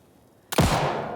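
A single loud, close gunshot rings out in Alan Wake 2 as a lock is shot, a sharp blast after near silence that leaves a long, decaying reverberant tail.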